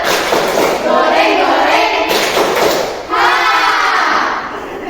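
A group performing the 'tepuk sambal' clapping chant: loud, close bursts of voices chanting together in unison with rhythmic claps, in two energetic rounds.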